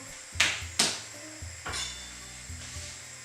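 A single garlic clove is crushed on a kitchen board with a few sharp, crisp cracks and presses, close and quiet over a faint background hum.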